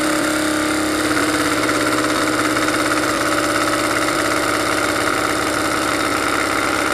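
A Robart hobby paint shaker agitates a bottle of Testors Model Master acrylic paint with a loud, steady mechanical buzzing rattle that holds constant from start to finish.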